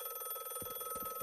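A steady, shrill bell-style telephone ring sounds in the detective game The Last Case of John Morley, unbroken and fairly loud, with several soft low knocks underneath.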